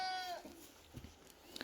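A goat on a small farm gives one short, nasal bleat at the very start, then only faint scattered rustles and soft knocks follow, all quiet and somewhat distant.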